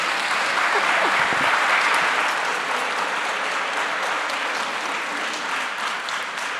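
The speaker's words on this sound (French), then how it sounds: "Clémence, on applaudit." A large audience applauds steadily, a dense wash of clapping that holds strong and then eases slightly toward the end.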